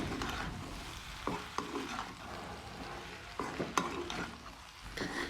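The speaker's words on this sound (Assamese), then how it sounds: "এনেকৈ মছলাখিনি ভাজি থাকিব লাগিব লাহে লাহেকৈ।" Spice mix with two spoons of ground cumin frying in a pan with eel pieces for a curry-leaf eel curry, stirred by hand, giving a steady low sizzle broken by several soft scraping stir strokes, close and moderately quiet.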